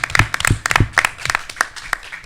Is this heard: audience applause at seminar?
yes